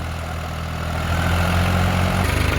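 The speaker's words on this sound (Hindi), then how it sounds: "तो भाइयों देख लो ट्रैक्टर पूरे आरपीएम ड्रॉप कर रहा भाई तगड़े वाले।" A New Holland 3600-2 tractor engine, roughly 50 hp, runs with a heavy low rumble that swells louder and turns uneven, pulsing as the RPM sags near the end, with no talk over it.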